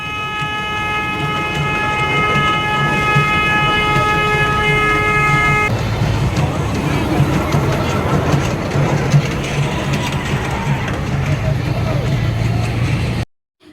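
A small exhibition ride train rumbles along steadily, its horn or whistle sounding a sustained tone at the start, with people chatting over the noise.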